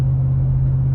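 A Chevrolet Trailblazer engine towing a Kubota, heard as a loud, steady low drone with a constant hum and no change in pitch, close and unbroken for about a second.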